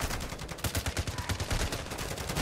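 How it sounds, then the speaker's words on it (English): Sentry guns in Call of Duty: Warzone fire a rapid, continuous stream of shots, dense and fairly loud, with quick rhythmic pulses and no break. "Watch out for these sentry guns."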